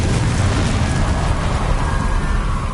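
Confringo explosive spell in Hogwarts Legacy, a loud blast with a sustained fiery roar and crackle that stays dense throughout, no talking.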